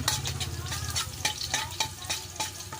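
Aromatics being sautéed in hot oil in a pan for chicken corn soup: constant crackling sizzle with rapid repeated stirring scrapes throughout, close and steady, with a low hum underneath.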